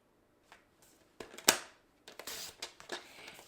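A paper trimmer slicing cardstock along a long edge, giving a few quiet, sharp clicks and scraping swipes of the blade, close by and alone.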